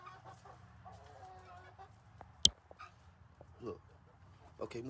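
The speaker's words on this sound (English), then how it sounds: "Okay, move, chicken." Chickens cluck in a farmyard around Thanksgiving time while someone talks to them, their calls scattered and close under his speech, with a sharp knock midway and occasional barks of a dog.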